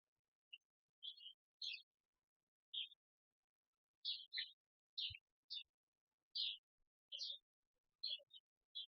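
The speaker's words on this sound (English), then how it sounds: "there's some little birds out here chirping around" Little birds chirp outside a door left cracked open, giving short high bright tweets in scattered bursts spaced a second or so apart, faint and distant against near silence.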